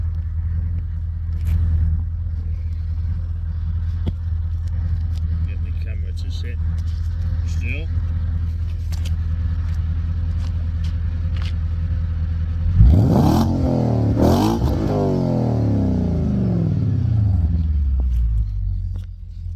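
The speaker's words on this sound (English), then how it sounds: "I'll let you guys listen to the exhaust on this thing." A low, steady V8 idle rumbles close by from an Audi S5's Milltek exhaust, then it revs hard with a rising, throaty roar before settling back; someone speaks briefly early on.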